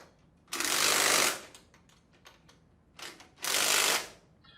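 Bolts are tightened on a non-metallic Sandpiper HD20F pump with a power tool, giving two loud whirring bursts about a second long, separated by quieter clicks and taps.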